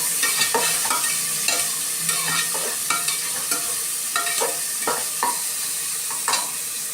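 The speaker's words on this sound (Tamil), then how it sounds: "ஆனியன் நல்லா வதங்கட்டும்" Onions sautéing in oil for chicken biryani sizzle steadily in a pan, broken by repeated scraping and clinking of a spoon stirring, close and fairly loud with no talking.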